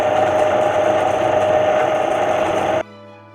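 A sewing machine stitching with red thread runs in a steady, close mechanical whir with a constant hum, then stops abruptly near the end, leaving near silence.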